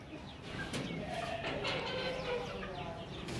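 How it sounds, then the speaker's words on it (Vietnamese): Hens at a villa-style home in Vietnam cluck and murmur steadily through the scene, with soft bird calls layered over a continuous background hum. "Đây là những em gà mái xinh đẹp của thầy Hòa"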